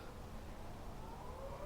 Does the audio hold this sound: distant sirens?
yes